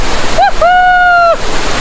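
At Mayabi waterfall in Sylhet, in the rain, water rushes down in a loud, steady roar close by. A clear whistling tone rises over the noise for about a second.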